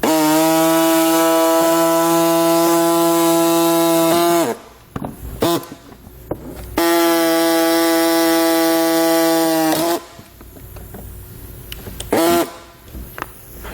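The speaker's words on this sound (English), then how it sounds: "we're using kind of like a tiny sawzall here to remove ours" A small reciprocating saw cuts the plastic air deflectors off a 2017 Jeep in two loud, steady buzzing runs of about four seconds each, separated by clunks and handling noise, close up with no talking.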